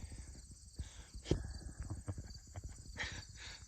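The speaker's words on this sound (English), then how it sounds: "the pony here" A pony walks across a farm yard shared with goats and a llama, its hooves clip-clopping in an uneven, steady rhythm at close range, with soft outdoor background noise.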